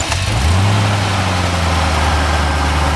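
A 1991 Chevrolet Corvette ZR-1 engine cranks and catches, then settles into a loud, steady, rumbling idle up close, with no one speaking.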